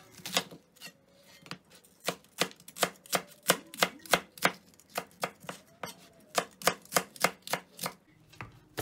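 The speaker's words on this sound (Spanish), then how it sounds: "Cortamos la cebolla fresca." Fresh green onion chopped with a knife on a board, a rapid, even run of about two dozen crisp, close chops with brief pauses.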